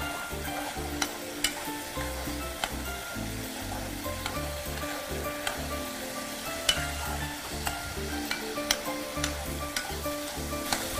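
Half a cup of rice sizzles and fries in a hot pan with a little water, a metal spoon scraping and clinking in repeated stirring strokes over the constant close crackle of frying.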